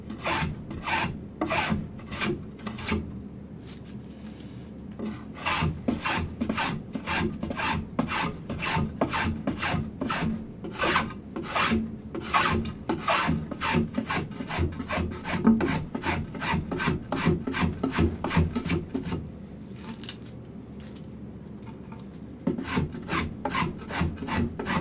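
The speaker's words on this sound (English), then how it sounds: "Roll them shavings right out of there." A sharp blade shaves wood for a hide stretcher in fast, steady rasping strokes, close and continuous with a couple of brief pauses.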